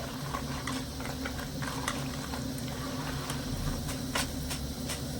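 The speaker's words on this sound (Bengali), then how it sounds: "মিষ্টিগুলো তো এখানে কিন্তু আমার খুব সুন্দর করে ভাজা হয়ে গেছে মিষ্টিগুলো আর এই দেখুন কি সুন্দর একটা আওয়াজ হচ্ছে" Steady, dense sizzling and bubbling of oil deep-frying tulumba sweets made from flour and sugar, continuous and close, with occasional sharp pops.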